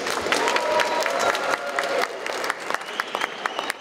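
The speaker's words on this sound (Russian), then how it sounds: "Давайте поаплодируем и встретим их." Audience at a fan meeting with UFC fighter Valentina Shevchenko in Bishkek, clapping loudly in a dense burst that thins into scattered, individual claps as it fades.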